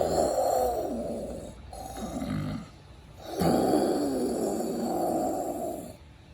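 A voice imitates a dog snoring in slow, loud, rasping bursts, with three long drawn snores separated by short pauses, close and alone.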